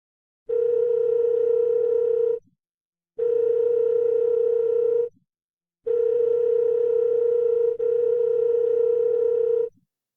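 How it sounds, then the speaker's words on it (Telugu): Telephone ringback tone on an unanswered call, four steady buzzing bursts of about two seconds each separated by short silences, loud and clean with no voices. "ఏంద్రా ఎవరు ఫోన్ ఎత్తట్లేదు?"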